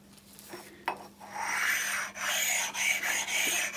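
Light stoning of a hand-flaked metal machine surface to take off burrs, a close, steady rasping scrape that builds after a couple of brief strokes and continues in rubbing passes with short breaks.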